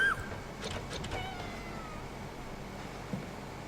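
A house cat meows a few short times near the start, then the sound quietens to a soft background murmur with a small bump near the end.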